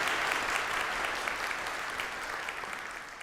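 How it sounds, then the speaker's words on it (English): Dense, steady audience applause fills the room, a continuous wash of many hands clapping at an even level after a career talk presentation. "Let's have a nice round of applause"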